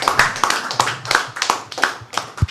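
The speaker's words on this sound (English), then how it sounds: "Another applause for our keynoter, please." Scattered hand clapping from a conference audience at the All Nigerian Editors' conference for the keynote speaker, a handful of sharp, separate claps in a loose uneven rhythm, close and fairly loud.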